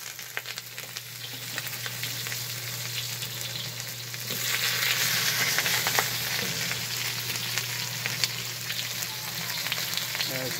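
Lemongrass, carrots and onions frying in olive oil, a close, steady sizzle with scattered stirring clicks that grows a little louder partway through, with no voices.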